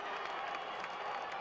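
A 1990 rugby league stadium crowd at South Sydney versus Manly reacts to a knock-on with a steady mix of applause, cheering and crowd noise, distant and continuous.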